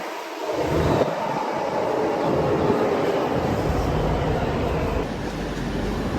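A Delhi Metro Yellow Line train runs at Millennium City Centre station with a loud, steady rumble and rushing hiss that holds throughout, close and continuous.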